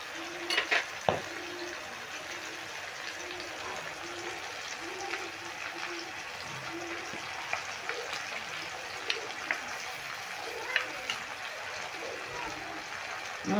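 A spoon stirs spice paste of chili powder and water in a pan for a cauliflower roast, making steady, rhythmic wet scraping strokes with light clinks and a faint sizzle beneath.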